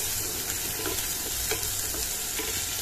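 Chopped onion and green chili frying in a pan of oil where prawns were just fried, producing a soft, even sizzle with light stirring throughout and no speech.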